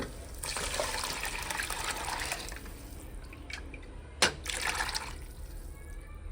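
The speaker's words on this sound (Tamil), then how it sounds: "புளி தண்ணியை ஊற்றிக்கிறேன் நான்" Tamarind water pouring in two bursts into a pot of fish curry, a splashy trickle, then a short clink and another brief pour.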